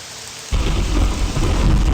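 A thunderstorm in Morrowind breaks in abruptly after a brief quieter moment: loud rolling thunder and dense, close rainfall fill the rest of the stretch without any talking.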